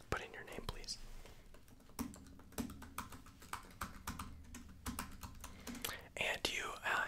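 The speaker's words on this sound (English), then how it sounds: "as I'm going to be writing things down, I also have to type and input them in" Soft keystrokes on a computer keyboard come in quick bursts and short runs, close and quiet, alternating with whispered speech.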